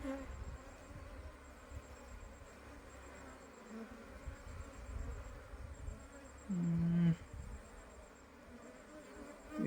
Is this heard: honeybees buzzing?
yes